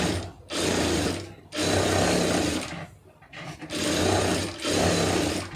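Sewing machine stitching a blouse lining runs in three loud sustained bursts, each stopping briefly in between, close up with no talking.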